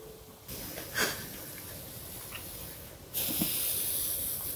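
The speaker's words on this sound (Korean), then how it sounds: "롤러를 위에 굴렸을 때" An ink roller rolls across a Pronto photo printing plate during multicolour inking, giving a steady sticky hiss that swells in two stretches with a brief soft thump near the start, fairly close and with no talk.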